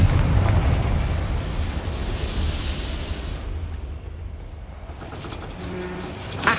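Confringo blasting spell going off in Hogwarts Legacy on PS5: a loud, sustained rumbling boom with crackling debris that slowly fades, then a faint metallic clatter near the end.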